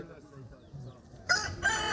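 An Indian cross-breed rooster crows at a poultry market, a loud, close two-part call bursting out at the end after a murmur of low background voices.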